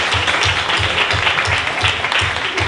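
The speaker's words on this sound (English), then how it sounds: "Round of applause." A crowd claps for the second-place finisher in a live comedy panel game at a festival, dense applause held at an even, fairly loud level throughout, with a low rhythmic thump beneath it.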